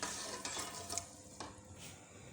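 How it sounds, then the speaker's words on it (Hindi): A spoon stirs about four tablespoons of sugar into a mixture for banana custard, making a few soft scraping strokes over a quiet hiss. "तकरीबन 4 टेबलस्पून इसमें शुगर मैंने ऐड की है और इसे मिक्स करते हैं।"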